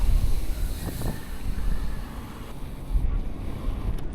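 Steady salty sea wind on a coastal dike rumbles low against the microphone, a continuous blustery roar with no voices.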